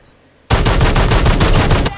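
A loud burst of rapid automatic gunfire from the LAG 53 in the mobile shooter game Call of Duty Mobile starts abruptly after a short silence and rattles continuously for about a second and a half.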